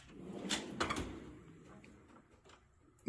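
A drawer on a packed 54-inch Snap-on Master Series XL tool box slides open with a couple of quick clattering rattles of metal runners, close and moderately loud, then fades into quiet room noise.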